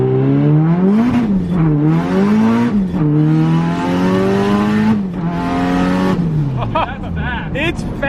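SR20DET turbocharged engine revving hard through the gears, pitch climbing and dropping at each shift with a rough downshift late on, loud and close under continuous excited talk.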